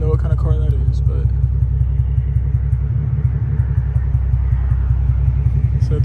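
Steady, loud low engine rumble from a car running nearby, with a fast pulsing throb that holds for the whole stretch; a voice speaks briefly at the start.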